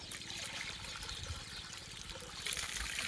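Water poured from a container into a dish set out for sparrows and other birds, a steady close trickle running continuously for several seconds with a slight surge near the end.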